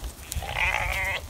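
Sheep ewes bleat in a wet field: one drawn-out, wavering bleat rises out of light background noise, fairly close and loud, with no talk.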